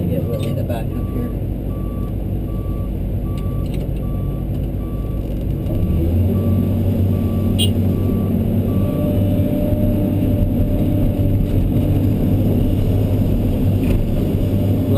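A truck reverses at an excavator loading site, its backup beeper sounding steadily over a loud, droning diesel engine that deepens partway through, with voices talking underneath.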